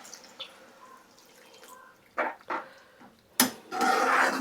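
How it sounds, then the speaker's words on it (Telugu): Water is poured into a tomato capsicum curry in a pan, a few short splashes and gurgles, then a louder sustained pour, close and without talk. "వాటర్ పోసేసుకుందాం."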